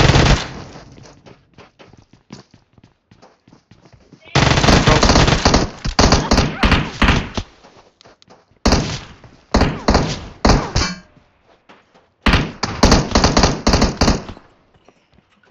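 Loud rapid bursts of automatic gunfire from a PUBG Mobile match come in repeated volleys of several seconds, separated by brief quieter gaps with scattered single shots.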